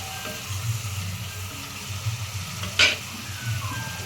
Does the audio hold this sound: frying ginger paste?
yes